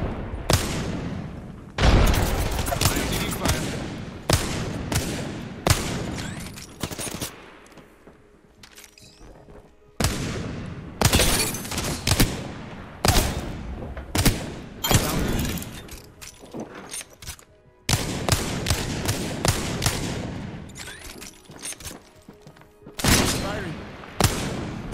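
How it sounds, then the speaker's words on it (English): Video game firefight with a frag grenade thrown amid gunfire: repeated loud bursts of shots and booms in clusters across the span, separated by brief lulls, with occasional voice callouts over the action. "Throwing grenade."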